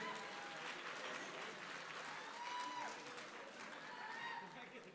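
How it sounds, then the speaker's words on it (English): An audience at a cooking competition applauds a contestant, steady dense clapping held for several seconds at a quiet, distant level, with a voice speaking over it. "Round of applause for Peyton, everybody"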